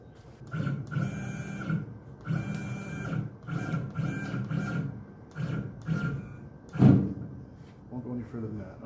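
A CNC machine runs in start-stop bursts, its motors whirring and buzzing at a steady pitch in repeated stretches with short pauses, one louder clunk partway through, heard close up.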